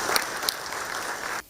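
Steady audience applause at a Nigerian news event honoring small businesses, a dense wash of many hands clapping at even loudness for over a second before cutting off abruptly.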